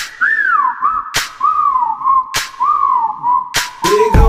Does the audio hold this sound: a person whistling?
yes